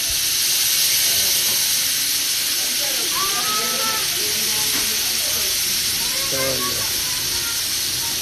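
Soy sauce poured into a hot pan with a loud, steady hiss of sizzling and steam that stays constant throughout, with faint background voices and scattered clinks underneath.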